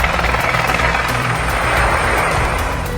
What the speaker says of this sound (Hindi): लोगों का रेस्क्यू हेलीकॉप्टर से किया जा रहा है।